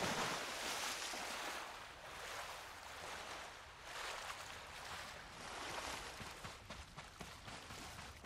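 Rushing water from a waterfall in the video game Ghost of Tsushima, a steady broadband roar that swells and eases in waves for the whole stretch, loud and continuous with no voices.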